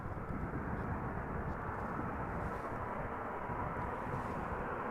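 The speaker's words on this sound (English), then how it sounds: "This 747-400 is coming home, or at least home, coming to Amsterdam from Nairobi." A Cargolux Italia Boeing 747-400, about 16 years old, arrives at Amsterdam Schiphol after a flight from Nairobi, its engines a loud, steady broadband roar that holds evenly throughout.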